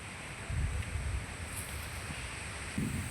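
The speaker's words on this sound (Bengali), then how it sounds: "তোমরা আকাশটার দিকে দেখো, ভীষণ বাতাস।" Strong stormy afternoon wind blows around a coconut tree in light rain, heard as a faint, steady rushing with low gusty rumbles buffeting the microphone and no speech.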